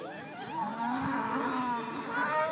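Cattle moo in one long, low, drawn-out call at a ranch rodeo team penning event, heard fairly close over faint arena background noise.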